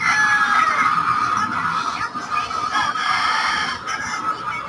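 Fighting roosters at a neighbor's yard crow and cluck together, a dense, loud flock of overlapping cock-a-doodle-doos and clucks filling the air continuously.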